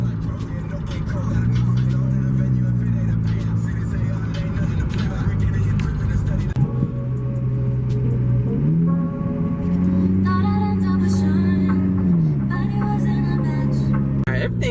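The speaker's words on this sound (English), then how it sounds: "I'm gonna let it run for a second. Then I'm gonna take it for a drive and see how it runs" A Chevy Cruze engine runs at idle after a PCV valve replacement, a steady low drone with a couple of rises and falls in revs, and someone talks over it.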